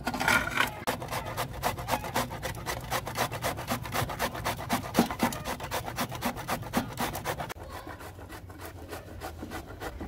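Bottle gourd (kaddu) being crushed for raita in a village kitchen: rapid, rhythmic rasping strokes scrape on steadily and close by, easing to a softer, thinner scrape near the end, with no voices.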